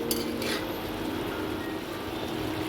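A metal lid goes onto a pan of fried shapla (water lily stems) cooked with a hilsa fish head, giving a couple of quick close clinks at the start before a steady sizzle continues.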